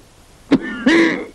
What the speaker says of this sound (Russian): Громче кашляй.